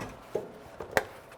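A few sharp hammer blows tap a four-link suspension mount into place on a 1955 Buick, three separate knocks spaced irregularly and heard faintly in a quiet shop.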